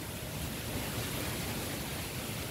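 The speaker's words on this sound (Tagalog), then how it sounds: "Ano niyo yung tunog ng hangin" Steady, dense rushing wind roars without pause, a broad hiss filling the air with no voices.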